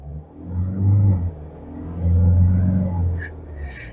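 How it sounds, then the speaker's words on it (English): A 2026 Isuzu MU-X LS-E 4x4 with a 3-liter turbocharged four-cylinder diesel drives along, its low engine rumble swelling and easing twice as it accelerates, close and steady inside the cabin. "this potent yet fuel-efficient 3-liter turbocharged 4-cylinder diesel engine"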